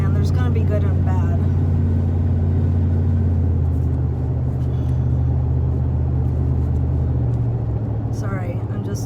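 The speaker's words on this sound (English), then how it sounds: "Sorry, I hate this drive. Like in this huge truck" A huge truck driving along a narrow road, heard from inside as a loud, steady low rumble that persists the whole time beneath continuous talking.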